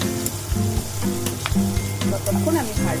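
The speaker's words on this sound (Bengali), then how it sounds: "পেঁয়াজটা একটু লাল লাল হয়ে আসবে," Onions sizzle loudly in a pan as they brown, with a dense close-up crackle, intermittent scraping strokes and a low tonal hum running underneath. No one speaks.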